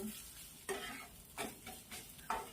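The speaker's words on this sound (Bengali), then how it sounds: "মা বাবার জন্য পেঁয়াজ ভাজছে" Onions fry in a pan while a utensil stirs them, giving soft intermittent scraping strokes over a faint sizzle, fairly quiet and close.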